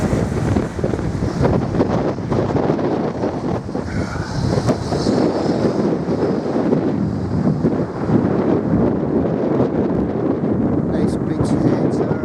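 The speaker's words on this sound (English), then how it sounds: "Oh, there's the wind." Wind gusts through a forest park, buffeting loudly and continuously with a rough roar, and a faint voice is buried beneath it.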